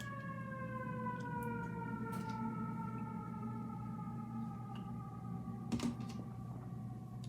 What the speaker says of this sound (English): Excuse me, sorry for the sirens.